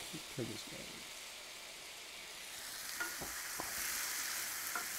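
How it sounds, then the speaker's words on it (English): Medium potatoes frying in a pan for a red pepper frittata, a soft, steady sizzle and hiss with a few quiet scrapes of stirring, faint and even throughout. "We want to get those going because we want to cook them until they're not quite soft."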